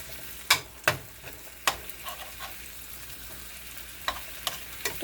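Sliced zucchini browning in a frying pan with Cajun seasoning, giving a faint steady sizzle broken by several sharp crackles and pops spread through the moment.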